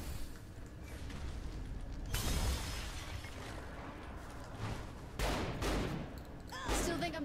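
Shotgun blasts ring out in a Saints Row 4 team deathmatch, with several loud booming bursts spaced a few seconds apart over a constant bed of game noise.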